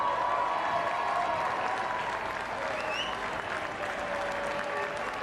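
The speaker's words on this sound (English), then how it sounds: "deserves that round of applause." Applause from a rugby stadium crowd at a URC match between Zebre and Ospreys, a steady, dense wash of clapping and crowd noise that holds throughout, with a commentator's voice faintly beneath.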